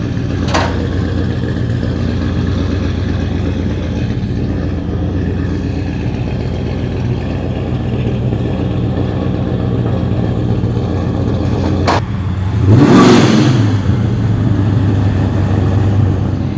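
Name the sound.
modified car exhaust revving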